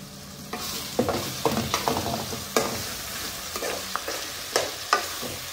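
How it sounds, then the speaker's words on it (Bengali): Three large onions with salt fry and brown in a pan under a constant hiss, punctuated by repeated spatula scrapes and knocks at uneven intervals, close and fairly loud. "এটা এখন ব্রাউন হবে অনিয়ন।"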